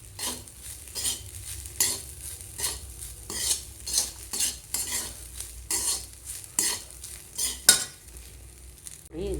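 Rice and spices for jeera rice are fried in a pan and stirred steadily, giving repeated close scraping strokes of a utensil over a soft, continuous sizzle.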